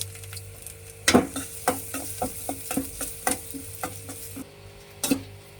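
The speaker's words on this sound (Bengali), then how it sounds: "তেল গরম হয়েছে, এখন পেঁয়াজের থেকে ভাজবো।" Onions frying in hot mustard oil in a pot, a soft constant sizzle punctuated by sharp scraping stirs and clinks of the spoon at irregular intervals, close up with no voices.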